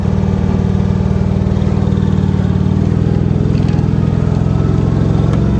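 Small Cushman Truckster utility vehicle engine running steadily while the vehicle backs up, a continuous close, loud low-pitched drone with a rapid putter and no pauses.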